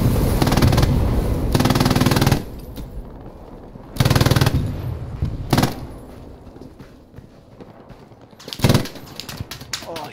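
MG42 machine gun firing in the video game Hell Let Loose, several loud rapid-fire bursts of a few seconds each with a blistering rattle, separated by gaps of lighter distant gunfire and battle noise.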